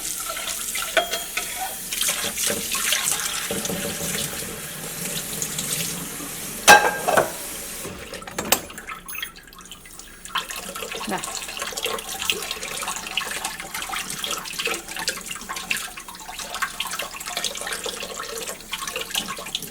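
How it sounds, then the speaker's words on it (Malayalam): Water splashes and runs into a vessel for several seconds, with clinking and sloshing as it is rinsed, close by and fairly loud. "ഞാൻ കുറച്ച് വെള്ളം ഒഴിച്ചിട്ട് ഇതിൻ്റെ കൂടെ ഒഴിക്കട്ടെ."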